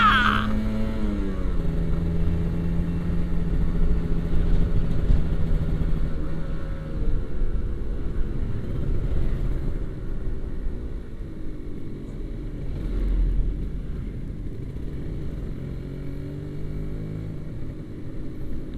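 A Kawasaki Ninja RR motorcycle engine under way while riding, loud and close, with repeated rising and falling rev sweeps over a steady rumble for the whole stretch and no speech.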